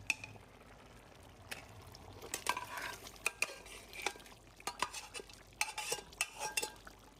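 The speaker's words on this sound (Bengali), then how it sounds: "তারপর চালের সাথে মাংসটা ভালো করে মিক্স করে দিচ্ছি।" Meat being mixed into rice in a pot with a utensil, irregular scraping and clanking strokes against the metal over a soft sizzle, fairly quiet and close, no talking.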